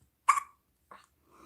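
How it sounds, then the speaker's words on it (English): Hiccups from a six-day-old puppy, two short sharp bursts about half a second apart, fairly close and loud, then a faint trailing sound. "your hiccups are getting louder"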